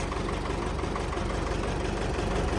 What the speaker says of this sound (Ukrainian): Движок робить як часики.